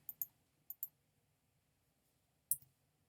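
A few sharp computer keyboard clicks come in two short pairs and one later pair, quiet and close against near silence.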